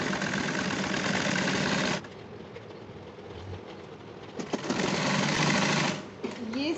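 Electric sewing machine stitching a salwar, running in a fast steady whir for two seconds, pausing, then whirring again in shorter runs, with someone speaking over the quieter gaps.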